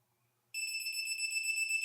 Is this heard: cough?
no